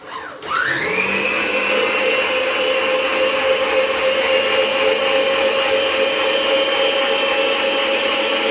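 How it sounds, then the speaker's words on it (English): A blender whirs up and runs steadily at high speed, a loud continuous motor whine churning liquid quiche custard, with no talking. "I'm going to take our mixture and I'm just going to blend it together for a second"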